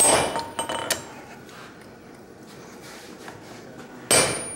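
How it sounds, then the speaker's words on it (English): A blacksmith's set hammer is struck on an anvil, giving a few sharp, ringing metallic blows at the start and one loud strike near the end, with a quieter gap between. "we're gonna set that space in a little bit using the set hammer here"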